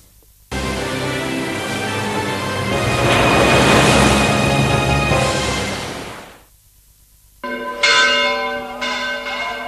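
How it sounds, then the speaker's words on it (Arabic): Church bells of Saint Mary's church in Leuven, Belgium, ring loud and sustained for the Coptic Christmas celebration, a dense swelling peal that fades and then resumes with bright, clear strikes. "أجراس كنيسة القديسة مريم في مدينة لوفان تعلن عن احتفال الأقباط في بلجيكا بعيد الميلاد المجيد"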